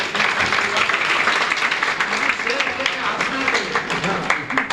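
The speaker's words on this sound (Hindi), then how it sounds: "इस पर तालियां होनी चाहिए" Audience applause at a poetry gathering, a dense, steady patter of clapping lasting a few seconds, with faint voices mixed underneath.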